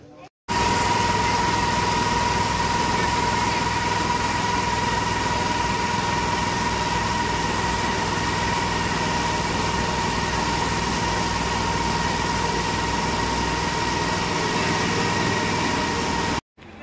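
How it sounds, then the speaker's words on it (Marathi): A boat engine runs steadily near Lumbini, Nepal, giving a loud, constant droning hum with an even tone for about sixteen seconds, cutting off abruptly at both ends. "ही बोट आहे"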